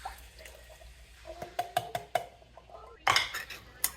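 Canned pinto, kidney and black beans go into a pot of homemade chili with a scatter of sharp metallic clinks and clatters, then a louder burst of scraping and sliding near the end, close up with no talking.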